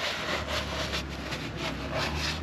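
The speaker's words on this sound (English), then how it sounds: "I'm going to go around the clean rag. Wipe the mating surface off" Cloth rag rubbing and wiping across the oil pan mating surface of a 2014 Chevrolet Silverado, a soft, steady, close scrubbing swish with no talk.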